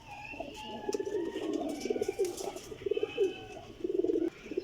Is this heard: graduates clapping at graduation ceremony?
no